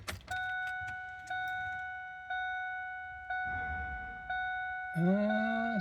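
Ignition key turned on a 2001 Ford F250: a jangle of keys, then a steady stream of chimes and dash warning tones, repeated several times, ending with a rising whir as the starter or fuel pump comes on.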